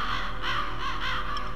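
Ravens caw in the video game Metal Gear Solid, about four rough calls in a steady repeating rhythm over a continuous low background hum, fairly loud and close, with no talk.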